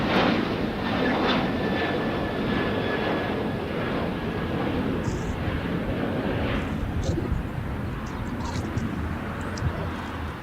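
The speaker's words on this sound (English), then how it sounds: "this is American Airlines Flight 1979 back to ORD Chicago on a Boeing" An American Airlines Boeing jet takes off from LAX bound for Chicago O'Hare, a steady loud broadband engine roar that holds for the whole stretch, with faint wind noise over it.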